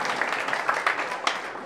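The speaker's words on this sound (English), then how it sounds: "let's give another round of applause. Our fantastic team" Short burst of audience applause for a team at a tech demo day, many hands clapping steadily at moderate volume with a few sharper individual claps standing out.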